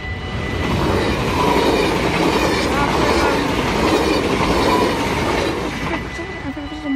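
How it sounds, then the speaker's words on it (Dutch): A freight train rolls past the station at Susteren, Netherlands, a loud, steady rumble of wheels and wagons with rhythmic clicking over rail joints, holding close and constant for the whole stretch. "daar komt gewoon een goederentrein aan"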